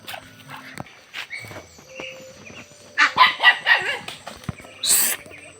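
A dog barks in a quick run of loud, close barks, with scattered rustling and footsteps in the background and rooster-like calls nearby.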